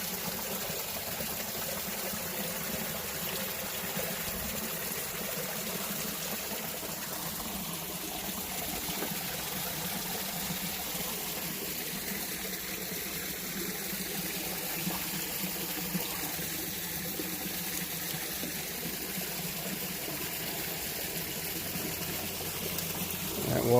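Clear stream water flows steadily through woodland, a continuous close burbling and trickling that holds at an even level throughout with no talking.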